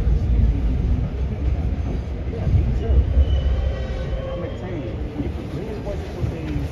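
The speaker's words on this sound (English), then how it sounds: "This is a Brighton Beach bound Q Express train." Onboard an R32 subway car on a Brighton Beach bound Q Express, a loud steady low rumble of wheels and motors with faint squeals and rattles, a voice speaking over the ride.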